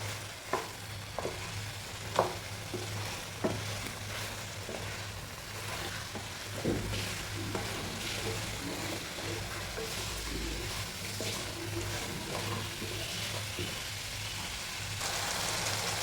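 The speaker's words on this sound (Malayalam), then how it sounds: "മീനിട്ട് നല്ലതുപോലെ ഒന്ന് മിക്സ് ചെയ്തെടുക്കാം." Fish is stirred into a sardine pickle in a sizzling pan, a continuous frying hiss with scattered scraping and clinking of the spoon, plus a low steady hum in the background.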